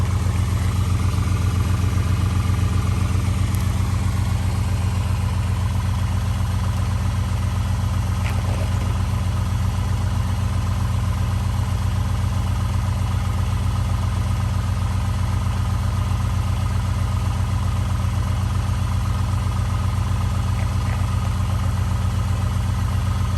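A Honda car engine is run as an air compressor, with one cylinder feeding air into a flat tire; the engine holds a steady, loud, continuous drone with a low rumble throughout, no talking.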